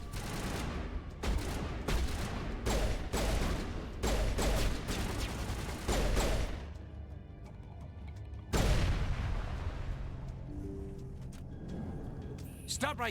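Bursts of gunfire in Mass Effect Legendary Edition, several loud rapid volleys in the first half, then scattered shots, heavy impacts and a lingering echo, with game voices and a player talking in between.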